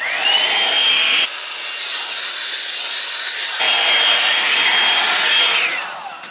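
A Drybar Double Shot blow-dryer brush runs on regular heat with a loud, steady whir. The pitch shifts when the setting changes partway through, then the motor winds down at the end. No one speaks.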